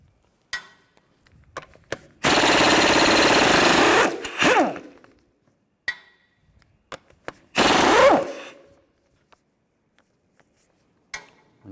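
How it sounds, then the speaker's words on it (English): An impact gun drives a 17mm socket to remove lug bolts from a Mini Cooper wheel, producing two loud, close rattling bursts of a few seconds each, separated by faint clicks and handling noises. "Use a 17mm socket, take these lug bolts out."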